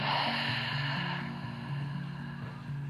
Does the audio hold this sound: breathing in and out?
yes